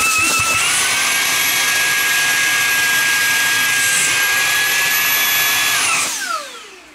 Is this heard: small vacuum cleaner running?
yes